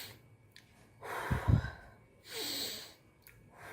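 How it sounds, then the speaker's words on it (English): Slow abdominal breathing demonstrated, a deep, close breath in followed by a long, soft exhale, with a quieter breath trailing after. "this is called as abdominal breathing"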